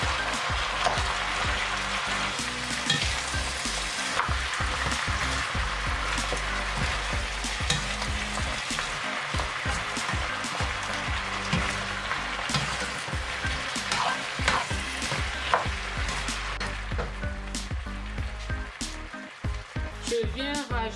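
Vegetables sizzle and crackle steadily in a hot pan while being stirred, with frequent clinks and scrapes of the utensil against the pan throughout, loud and close, with no voices.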